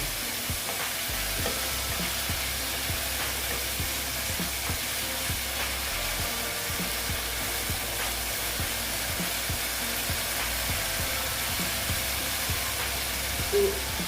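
Dry-roasted peanuts frying with chopped banana stem in a pan, a constant dense sizzle with soft, regular stirring scrapes underneath, close and even throughout.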